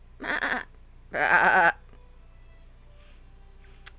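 Goats roaming hillside ruins let out two loud, close bleats, one short and one longer, with quiet between and after.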